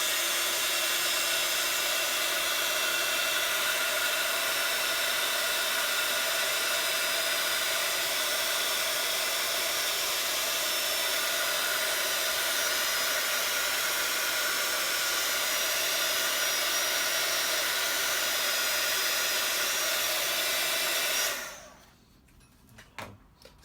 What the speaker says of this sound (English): Just going to run my heat tool over that.